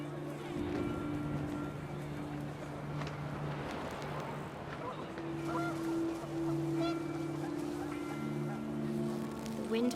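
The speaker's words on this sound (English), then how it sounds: "The wind picked up, and panicked geese appeared and quickly went." Geese honking in the video game What Remains of Edith Finch, repeated nasal calls over a steady gust of wind, loud and close, with no speech.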